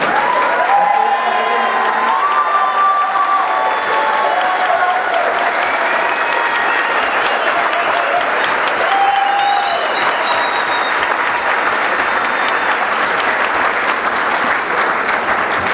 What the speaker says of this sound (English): graduates, I want you guys to clap your hands and give them some love.